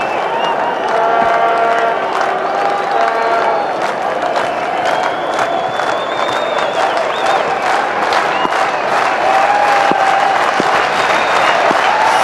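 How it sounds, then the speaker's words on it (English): Crowd cheering and applauding at a 2006 New Zealand v Sri Lanka one-day international cricket match in Napier, a steady loud roar with scattered whistles and shouts throughout, under a commentator's voice. "The crowd are onto it."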